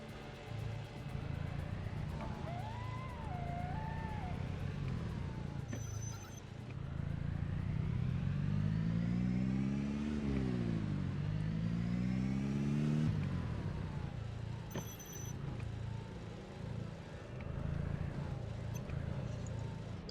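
A truck engine drones steadily while driving in Project Zomboid, rising and falling in pitch as it speeds up and slows, moderately quiet and unbroken, with faint scattered clunks.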